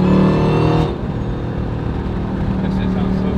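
Jeep Trackhawk SUV engine revving and accelerating outdoors, a loud close roar that drops in pitch after a strong burst, with voices talking over it.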